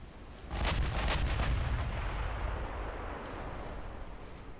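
Heavy naval guns boom from a warship in Ultimate Admiral Dreadnoughts, a sudden loud salvo of overlapping blasts followed by a long rumbling roar that slowly fades, with no voices.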